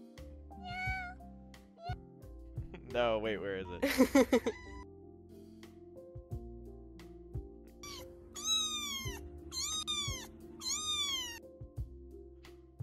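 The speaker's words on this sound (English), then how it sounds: "a video of a guy holding a cat like a hamburger and it's just meowing" A cat meows several times, high and drawn out, in bursts among louder cries, played back from a video, while a person speaks briefly over a busy background.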